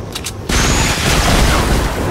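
A rocket explosion in Fortnite bursts in loud and close after a brief quiet lead-in, then rolls on as a dense, sustained roar of blasts and rumble with no talk over it.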